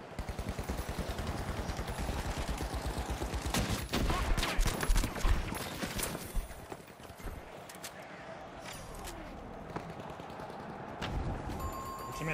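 A turret in the video game The Finals firing rapid, sustained bursts of gunfire, loud and close throughout, with busy battle noise around it.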